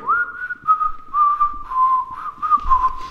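A person whistles a wavering melody, a series of slightly unsteady tones with small breaks between notes, close and clear.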